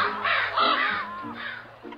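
A big raven caws repeatedly in a story sound effect, harsh rasping calls in quick succession, loud and close with no voices.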